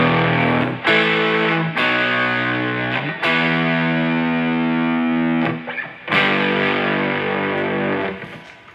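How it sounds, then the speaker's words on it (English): Heavily distorted electric guitar chords from the distortion channel of a Fender Hot Rod Deville amp ring out loud and sustained, struck in several separate strums with brief gaps between them, no voices. "So I'll just turn the distortion on here"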